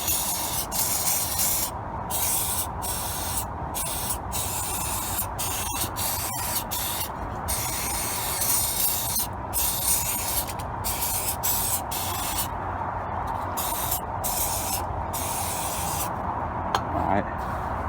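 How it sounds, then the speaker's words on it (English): Repeated bursts of aerosol carburettor cleaner spraying into a Lexmoto Venom 125 carburettor, hissing in short and long blasts with brief gaps, close and fairly loud against a steady background. "just give it a good spray everywhere."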